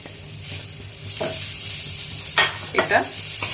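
Hilsa fish frying in a pan with onion, garlic and green chilli: a steady close sizzle with louder bursts of spatter and stirring near the end.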